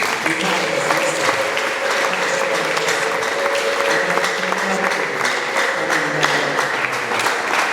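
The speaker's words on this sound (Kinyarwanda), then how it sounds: "tugukomeye amashyi." A church congregation applauds with dense, sustained clapping that continues steadily throughout, with a voice faintly audible beneath it.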